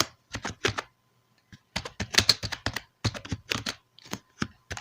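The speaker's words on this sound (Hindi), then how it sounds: "और इसमें हम लिखेंगे शाहिद खान।" Rapid keyboard typing while HTML code is entered on a computer, clattering in quick irregular bursts of keystrokes with short pauses between them, close and fairly clear with no talking over it.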